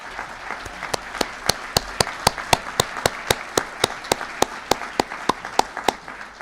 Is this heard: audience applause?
yes